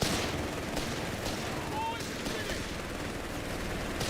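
Gunfire and rifle grenade blasts in Company of Heroes 3, a dense rattle of shots and bursts under continuous battlefield noise, with a voice talking over it.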